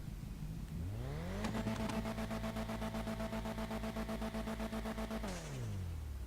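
A car in FiveM (GTA V) strapped to a dyno revs up from idle into a long, steady high-rpm wail, then winds back down, loud and close with no voices.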